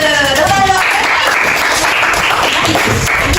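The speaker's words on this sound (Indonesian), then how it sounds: "Tepuk tangan untuk tadi" A burst of loud, dense applause from a classroom of students, steady clapping that fills the space right after a short spoken phrase at the start.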